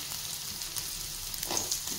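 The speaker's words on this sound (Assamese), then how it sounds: "এয়া কঁঠাল গুটি ভাজিম পিঁয়াজ ভাজিম" Jackfruit seeds and onion frying in hot oil in a wok give a steady, close sizzle throughout, with a slight swell in crackle near the end and no voices.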